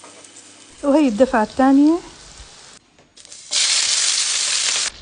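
Eggplants fry in hot oil: after a short stretch of talk, a loud, steady, close sizzle fills the rest of the clip.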